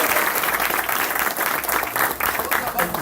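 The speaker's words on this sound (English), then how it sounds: "Let's give a big hand, a big applause." An audience applauds steadily and fairly close at a Brazilian jiu-jitsu black belt ceremony, dense clapping filling the whole stretch without a break.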